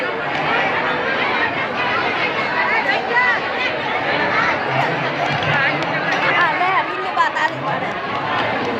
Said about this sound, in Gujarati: પબ્લિકની બહુ ભીડ છે